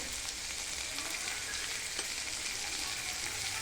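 Chili powder drops into a pan of onions and tomatoes for a dried Bombay duck chutney, producing a steady, soft sizzle with faint stirring scrapes, fairly quiet and without voices.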